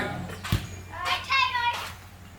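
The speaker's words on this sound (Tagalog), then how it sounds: "Yung mga bata nasa labas, naglalaro sa trampoline." Children play outside on a trampoline during a birthday gathering, their distant shouts and squeals rising in short bursts amid background noise and a soft thump.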